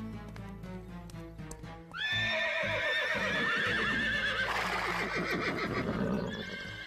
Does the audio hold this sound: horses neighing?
yes